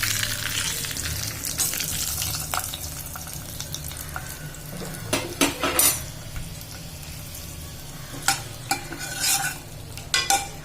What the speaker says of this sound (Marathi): आता गॅस बंद करते आणि मी फोडणी डाळीवर घालते